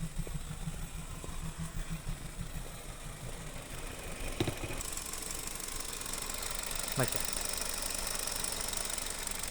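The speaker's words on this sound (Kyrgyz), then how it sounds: "Мына мотордун звугун угуңуздарчы, доошун." A Kia Rio's engine runs at a steady idle nearby, a continuous low rumble with a faint rhythmic knock and a broad hiss over it, unbroken for the whole stretch.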